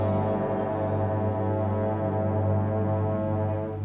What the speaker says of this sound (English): Funny thing about foghorns, you can hear them, but Oliver keeps asking himself, where does